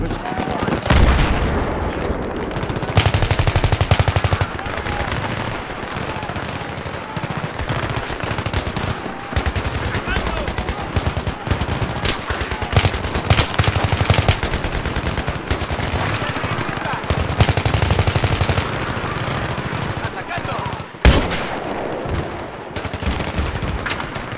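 Sustained Battlefield 3 gunfire: rapid machine-gun bursts and scattered shots with occasional booms, loud and continuous throughout, with game voices calling out over the combat.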